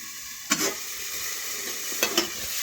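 Pointed gourd pieces frying in oil in a covered pan give a steady, bright sizzle, broken by a few sharp clinks, probably from the lid or a utensil.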